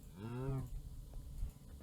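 A single cow moos once, short and fairly faint, in Minecraft with the Stoneblock 2 modpack. A quieter background murmur follows it.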